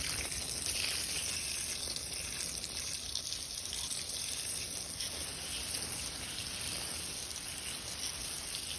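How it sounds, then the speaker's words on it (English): Water poured and splashing steadily over garnet-bearing rocks and matrix at a mine, a continuous close hiss and trickle without pause, with no talking. "I'm gonna get some water on it and see how it starts to clean up."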